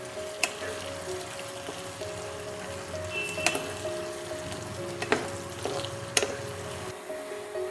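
Onions frying in ghee until browned, giving a steady soft crackling sizzle broken by occasional clicks and clanks of stirring. The hiss is moderate and continuous, with no talk.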